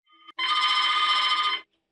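An Android smartphone rings with an incoming call tone that plays even in silent mode, a loud, bright trilling burst lasting just over a second after a brief faint chirp, with no voices.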